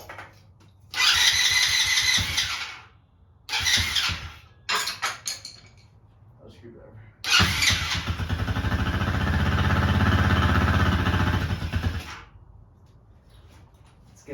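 A quad's cold engine being jump-started from a 20-volt lithium-ion battery: several short cranking bursts, then it catches and runs roughly for about five seconds before cutting off, close and loud.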